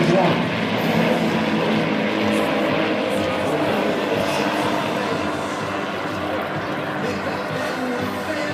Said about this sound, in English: Example of 6 aircraft flying as one.